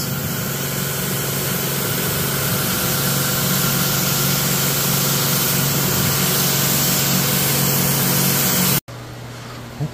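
A low-pressure washer rinses soap off a tractor, a steady continuous spray hiss over a running pump or engine hum that goes on without a break and cuts off sharply near the end.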